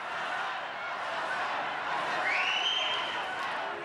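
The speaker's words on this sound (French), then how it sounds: "Huées, sifflements, cris de haine, les réactions sont très vives." Hundreds of people gathered outside the Brussels courthouse roar with booing and shouting, a sustained dense crowd noise with a sharp whistle rising midway, steady and loud throughout.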